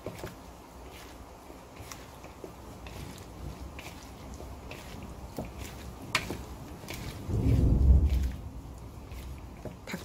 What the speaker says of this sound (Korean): 밖에는 비가 오고 천둥이 치네요.